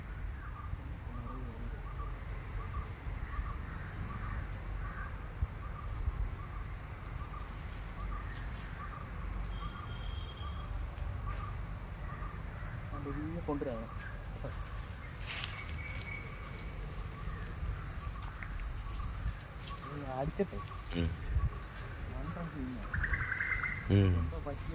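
Repeated high chirping bird calls in short bursts over a steady low outdoor rumble during carp fishing, with some voices talking nearby.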